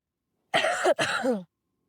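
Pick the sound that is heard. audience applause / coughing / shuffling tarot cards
coughing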